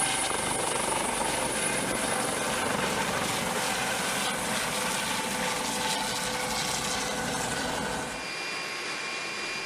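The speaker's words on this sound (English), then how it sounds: "then the various helicopters can do the job easily." A US Coast Guard rescue helicopter drones steadily with a dense, rumbling rotor and engine roar, fairly loud throughout before easing off slightly near the end.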